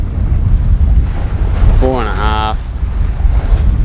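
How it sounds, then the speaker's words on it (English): A sailboat sails with its motor off through stormy wind and waves at sea near Great Keppel Island, making a continuous rush of wind buffeting the microphone and washing water, with a brief spoken voice partway through. "I've turned the motor off and we're just sailing now"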